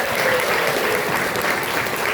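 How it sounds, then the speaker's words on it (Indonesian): A school audience applauds after a student drama performance, dense steady clapping filling the room for a couple of seconds, fairly close and loud. "tepuk tangan ya"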